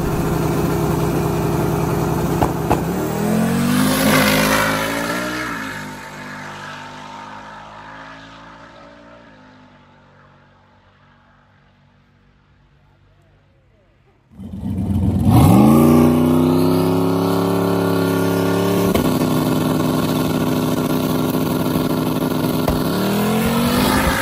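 A drag car makes a pass, its engine roaring hard, fading away into the distance and near silence before a second loud engine surge rises close by, all without talk.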